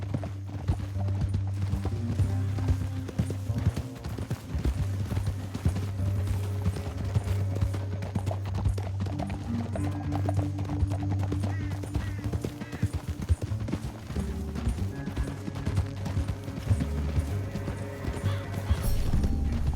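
Horses galloping in Red Dead Redemption 2 on Xbox Series S, a continuous drumming of hooves with occasional neighs, loud and steady under a busy game soundtrack.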